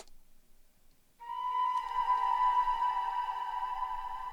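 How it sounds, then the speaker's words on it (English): A sustained flute tone enters after a brief near-silence, smeared into a soft, washy wash of heavy reverb that lingers throughout. "you can hear that it's been turned into this washy kind of effect"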